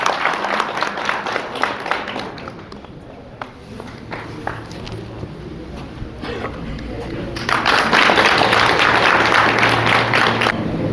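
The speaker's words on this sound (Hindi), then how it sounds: "जोरदार तालियां" Audience applause at a veterans' and paramilitary association anniversary event, starting with scattered claps, easing briefly, then swelling into loud, dense clapping from a crowd close by.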